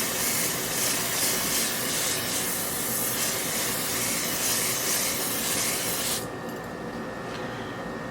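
Setting spray misted onto the face during a makeup application, a steady close hissing spray lasting about six seconds that then cuts off, leaving a faint quieter background; no talking.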